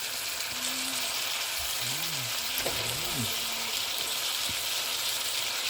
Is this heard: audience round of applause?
no